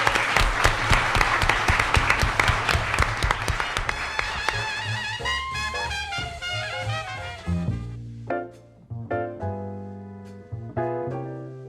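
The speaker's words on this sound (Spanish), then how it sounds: "Un aplauso." A studio audience on a talk programme gives a brief burst of clapping that fades as a musical jingle takes over and plays on alone.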